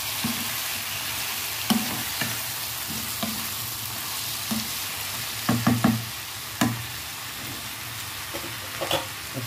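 Cut brinjal is stirred into a pan of frying potatoes for aloo baingan sabzi, with a steady sizzle under repeated spoon scrapes and knocks that bunch into a quick flurry partway through.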